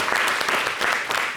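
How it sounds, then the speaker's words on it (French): A TV studio audience on a French summer entertainment program breaks into applause, a brief close burst of many hands clapping evenly and briskly. "Est-ce qu'on peut applaudir ce grand geste de paix?"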